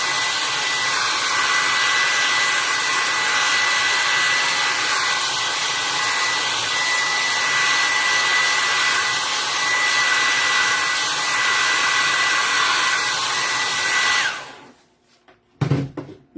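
A hair dryer blows steadily and loudly at close range over a freshly painted Santa picture, a constant broadband whoosh for about fourteen seconds before cutting off, followed by a couple of brief clicks.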